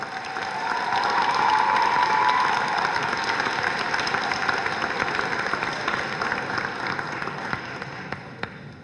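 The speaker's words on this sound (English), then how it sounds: "Let's give them all a big round of applause." An audience at a correctional officer academy graduation applauds and cheers for the new cadets. Sustained clapping swells early, then thins gradually, with some scattered whoops and shouts mixed into the crowd noise.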